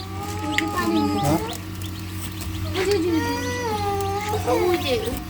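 Newly hatched chicks fresh from an incubator cheep in thin, rising peeps that repeat steadily and close by, over a constant low hum.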